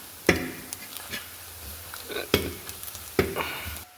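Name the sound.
boiled chickpeas stirred into roasted spices in a pan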